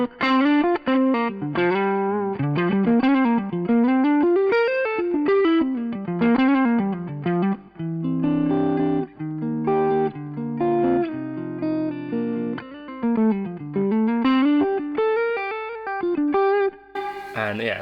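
Electric guitar through a Fuchs Four Aces amplifier set to high gain, loud and close with distorted fast melodic runs and sustained held chords, played alone without talking.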